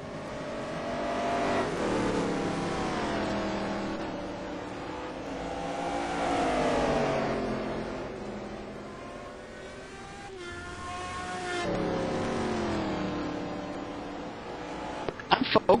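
Race cars, including Audis, circle the track in a GTPro series race, engines rising and falling as they rev through gears and sweep past in repeated loud, wavering passes.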